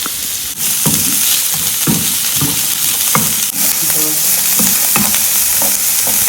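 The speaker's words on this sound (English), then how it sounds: "So you saute your onions for 1 minute" Chopped onions sauté in a hot pan with a steady, loud sizzle, while a spoon stirs and scrapes in regular strokes close by.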